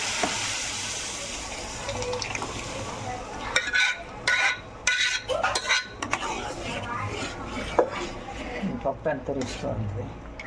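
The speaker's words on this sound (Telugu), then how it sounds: "సో ఫైనల్గా పప్పుని అందులో పోసేస్తుంది" Cooked dal poured into a pan of tempered onions and turmeric, then stirred with a metal spoon: clinking utensil scrapes and soft wet sloshing, with a voice talking through it.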